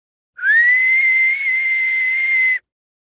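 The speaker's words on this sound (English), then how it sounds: "whistle with fingers" A loud, piercing whistle that slides up and holds a steady high note for just over two seconds, then stops abruptly.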